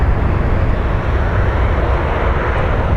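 Southwest Airlines jet at Phoenix Sky Harbor airport, a loud, steady broadband engine roar that holds without letup, close and continuous with no talk over it.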